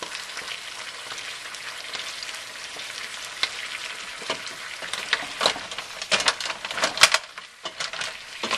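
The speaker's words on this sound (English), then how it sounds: "the oil has come to a little bit of a sizzle here, so I'm just going to toss it" Oil sizzles and crackles steadily in a pan of mussels, with scattered pops and a few clattering shell sounds as the mussels are tossed near the end.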